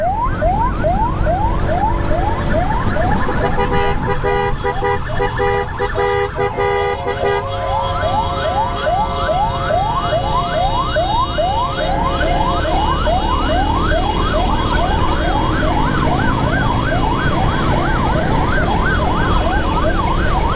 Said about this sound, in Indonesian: Ini ambulans siluman atau gimana, saya nggak tahu ini.